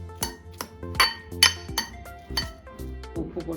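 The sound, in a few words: utensils clinking while mixing onion, tomato, raisin, apple, pomegranate salad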